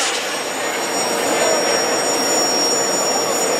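An aircraft passes low over a flight line on a gear pass, its steady jet-like engine roar filling the clip loudly and continuously from start to finish.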